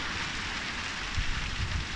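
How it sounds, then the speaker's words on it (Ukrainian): A heavy downpour with hail pours down outdoors beside a campfire, a dense steady roar of rain hammering surfaces with no break. It is loud and close, and no one speaks. "І тут пішов ливеняк з градом бешений."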